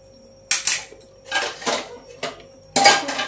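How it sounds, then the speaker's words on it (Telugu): A metal spoon scrapes and clanks against a cooking pot while chicken is mixed, giving four or five loud, close clattering strokes separated by short quiet gaps. "ఇప్పుడు మొత్తం చికెన్ని కలుపుకుందాము."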